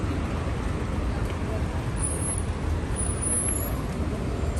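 Road traffic in Dubai heard from an overpass: a constant, loud, dense roar of vehicles, with no distinct pass-bys standing out.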